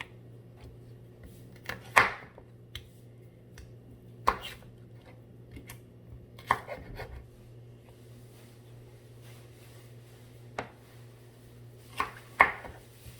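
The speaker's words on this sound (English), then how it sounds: "I'm going to chop them in little cubes" Baby cucumbers chopped into small cubes on a board, heard as a handful of sharp, separate knife knocks spaced a few seconds apart against a quiet room hum.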